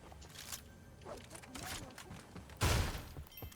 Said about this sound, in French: Fusil de chasse.